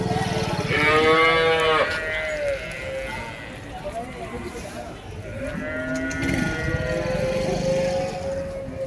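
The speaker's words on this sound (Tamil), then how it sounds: "நாட்டு பசு மாடுங்க." Native cows mooing at a cattle market in Vaniyambadi, two long, loud moos close by, one at the start and another later, with market chatter and voices in the background.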